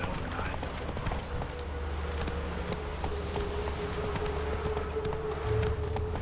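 Roach, Geralt's horse in The Witcher 3, gallops with a quick, regular beat of hooves, close and steady, over a faint buzzing hum.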